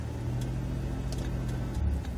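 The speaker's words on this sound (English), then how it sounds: "Revved it up a little bit" A 2001 Monte Carlo SS engine runs with the car in park, a steady low rumble close by with a slight rise near the end, no voices over it.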